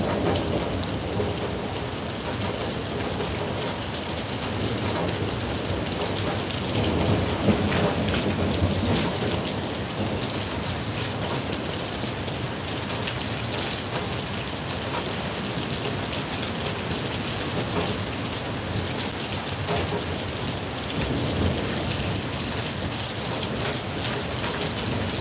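A heavy thunderstorm in Kansas pours steady, dense rain that hisses without a break, while rumbles of thunder roll through in the background.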